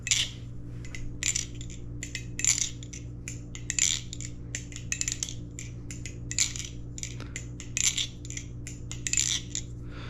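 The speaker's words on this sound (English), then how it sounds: "It even makes this blade ring just a tiny bit, and it sounds pretty nice." Pocket knife lubricated with Carbon Honey, its blade flicked open and shut repeatedly: a steady run of crisp metallic clicks and light ringing snaps, close and fairly quiet over a low background hum.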